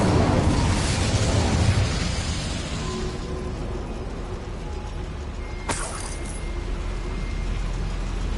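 Incendio fire spell cast in Hogwarts Legacy inside a goblin mine, a loud whooshing burst of flame that swells at the start and fades into a rumbling hiss, with a sharp crack partway through.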